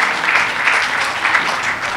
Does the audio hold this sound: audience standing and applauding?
yes